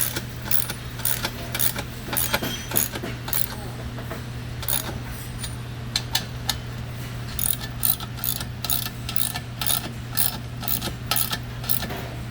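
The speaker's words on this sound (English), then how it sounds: "now that we have all four bolts in, we're going to go ahead and tighten them all the way." Bolts on a center post uplift for 950 Series variable height tables are tightened with a ratcheting tool, giving rapid bursts of close metallic clicks over a steady low hum.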